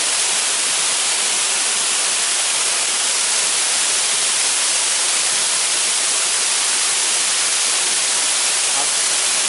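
Wang Tum waterfall in Phetchabun, Thailand, a steady, loud, unbroken rush of falling water that holds the same level from start to finish, with no voices.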